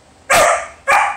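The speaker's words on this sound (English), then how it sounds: "my dog's barking" A pet dog barks twice indoors, loud and very close, two sharp barks about half a second apart with nothing else around them.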